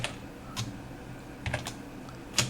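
Computer keyboard typing: a few separate clicky keystroke clusters spaced across a quiet room, close and fairly soft, with no talking.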